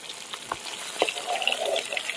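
Small hilsa fish shallow-frying in a little oil, giving a soft, steady hiss and faint crackle with a few light pops, low and continuous, with no voices.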